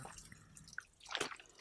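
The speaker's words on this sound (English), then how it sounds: "We just found this water stream and it took me for like several minutes to fill up this bottle." Water from a mountain stream trickling into a bottle on a via ferrata route in the Dolomites, soft gurgles and a few bright drips, close and faint.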